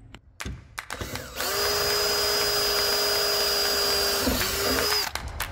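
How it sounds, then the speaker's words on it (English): A power drill whines up to a steady, loud high-pitched grind drilling through folded metal for about three seconds, then winds down, with clanks and handling knocks before and after. "I'm going to be drilling through these holes into the folded up metal"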